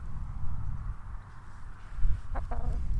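A hen gives a couple of short clucks over a steady low rumble of background noise.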